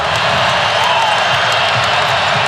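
Dense basketball arena crowd noise at an NC State versus Virginia men's college game, a steady loud roar of cheering filling the whole moment with no pause, with a faint commentator-like voice murmuring underneath.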